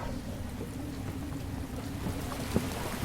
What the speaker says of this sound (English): Silver rain pours down on a cratered wasteland, beating endlessly on your headgear